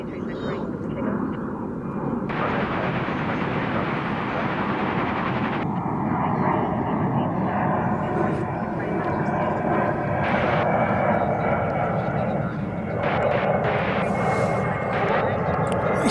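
An airliner takes off from a runway at DFW airport, heard as a broad, steady engine roar that swells over several seconds, with air traffic control radio chatter running over it.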